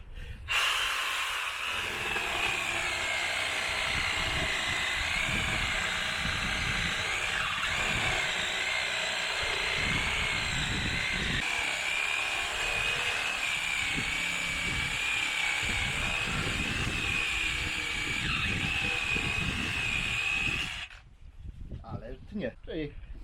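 A MATRIX BCS 40V cordless chainsaw cuts through wood, a close, steady high-pitched whine with a grinding bite lasting about twenty seconds before it stops abruptly, followed by faint handling noises.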